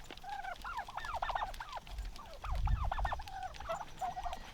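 Heritage and bronze-breasted turkeys gather at a feeder, gobbling and chattering in repeated close bursts over a soft low background, with no voices.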